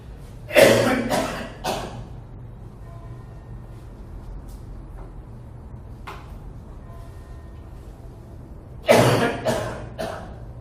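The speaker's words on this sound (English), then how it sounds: "I've got a cough, which I'm going to have to pause while I get over this" Coughing from a man lecturing on philosophy: a burst of two or three harsh coughs near the start, a faint cough in the quiet middle, then another loud burst of coughs toward the end, heard close up.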